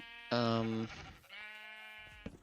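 A sheep in a Minecraft pen lets out two loud, drawn-out bleats, up close and clear, with a brief pause between them.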